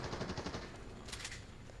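Fortnite gunfire in a quick burst of rapid automatic shots at the start, then a second cluster of cracks, heard faint and distant over a steady game ambience with no talking.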